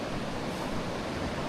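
Snoqualmie Falls in Washington state roars with rushing water, a loud, steady broadband wash of noise with no talking.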